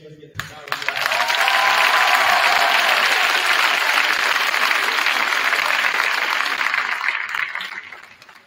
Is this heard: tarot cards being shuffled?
no